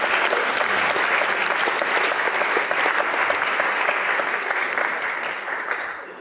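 An audience claps steadily throughout at an outdoor folk concert in Östersund, a dense, loud, sustained applause that thins slightly toward the end.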